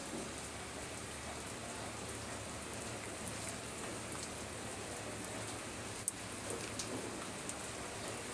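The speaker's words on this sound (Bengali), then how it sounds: "বৃষ্টি কিন্তু বাড়তেছে।" Steady rain falls and hits surfaces, a dense, even hiss of drops that stays constant and soft throughout, with a single brief knock near the end and no talking.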